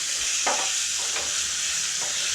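Grated radish sautés in a pan for thuvaiyal, with a steady hiss of frying and three short stirring scrapes spaced across the moment, close and unaccompanied by speech.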